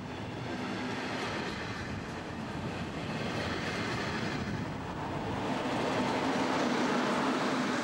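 A double-decker Airport Express train pulls out of Berlin-Schönefeld station with a steady, broad rolling rumble and hiss that holds loud and constant, rising slightly toward the end.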